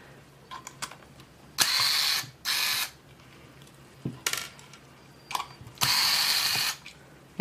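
Screws being backed out of the rear casing of a Scosche sound pressure level meter, with short ratcheting clicks and several bursts of a hissing, whirring screwdriver, close and fairly quiet, no talking.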